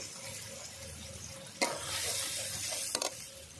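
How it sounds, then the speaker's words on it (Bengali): Chopped tomato sautéed with turmeric and salt in a pan, heard as a steady close sizzle with stirring, broken by two sharp bursts of louder spattering and scraping. "হলুদ গুঁড়ো লবণ একসঙ্গে আমি ভালো করে কষিয়ে নিচ্ছি"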